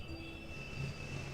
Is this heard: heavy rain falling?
no